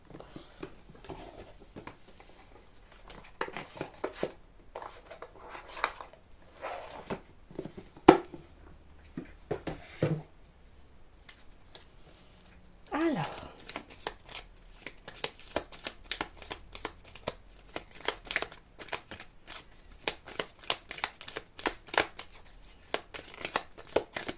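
Oracle cards of a magical sabbats deck shuffled by hand, a long run of soft riffling and flicking card sounds, near and continuous, with brief quieter pauses.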